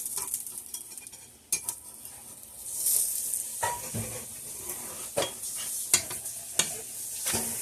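A cinnamon roll pancake sizzles on a hot pan while a spatula scrapes and clinks during the flip, with soft frying hiss and several sharp utensil taps.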